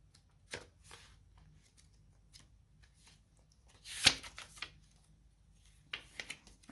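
Tarot cards being shuffled and drawn by hand: short crisp riffling bursts and soft slides with a sharp flurry midway and quick flicks near the end, in a quiet room.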